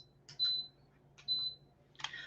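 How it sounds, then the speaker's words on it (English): A heater gives three short high electronic beeps, spaced about a second apart, the last one harsher and more crackly, in an otherwise quiet room. "Sorry about the beeping, guys."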